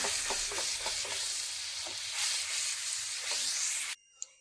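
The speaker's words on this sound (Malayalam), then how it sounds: "ഇനി നമുക്കിതൊന്ന് ഇളക്കി കൊടുക്കാം." Curry in a pan, thinned with water used to rinse a tomato-grinding mixer jar, is stirred with a soft steady sizzle and a few scraping strokes; near and moderately loud, then it stops abruptly with a short clink.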